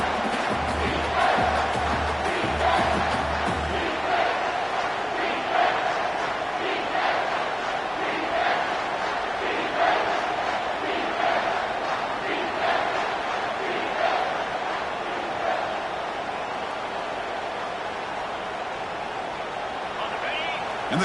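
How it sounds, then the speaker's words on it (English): A college football stadium crowd roars and cheers continuously to back the defense in the red zone, a loud, sustained wash of voices with commentators talking over it. "the crowd coming to life here, trying to help this defense down in the red zone"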